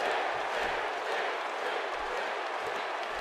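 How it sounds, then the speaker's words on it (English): Wrestling arena crowd cheering for Sting, a dense steady roar of voices filling the hall with faint rhythmic chanting, no single voice standing out. "The crowd cheering for Sting finally here."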